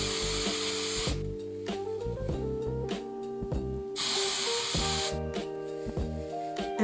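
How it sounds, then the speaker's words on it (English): Several hissing bursts of hairspray from an aerosol can onto a hard brush, the longest two lasting about a second each, over steady background music. "I'll grab some hairspray and I'll spray my hard brush."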